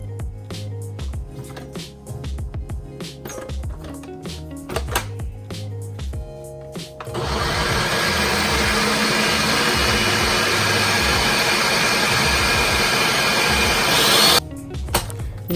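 A blender whirs steadily for several seconds, mixing a vegan alfredo sauce seasoned with salt. It starts after some quieter handling clatter and stops abruptly.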